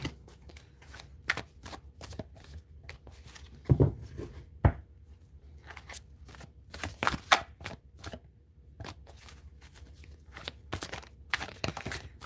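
Large oracle cards being shuffled by hand for a spirit animal reading, close crisp riffles and slaps in irregular bursts with brief pauses between.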